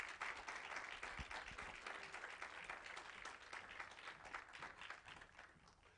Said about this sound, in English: Please give them a hand clap.